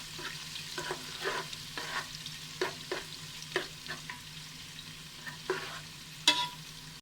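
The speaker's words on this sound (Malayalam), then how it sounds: "സവാള ചേർത്തു. അതിൻ്റെ ഒപ്പം തന്നെ ബാക്കി വന്ന ഇഞ്ചി വെളുത്തുള്ളി ക്രഷ് ചെയ്തതും അരിഞ്ഞു വെച്ചേക്കണ മുളകും കൂടി ചേർത്ത് നല്ലോണം ഒന്ന് വഴറ്റിയെടുക്കാം." Onion sautéed with crushed ginger, garlic and chopped chili in a pan, a steady low sizzle broken by repeated scraping stirs at an irregular rhythm, close and fairly quiet with no voices.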